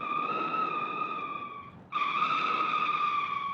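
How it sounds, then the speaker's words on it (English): Tyres squealing in BeamNG Drive version 0.29, heard on their own as a steady, bright, sustained screech that drops out briefly near the middle and then resumes just as strong. "when we isolate the tyre sounds, it then becomes kinda noticeable"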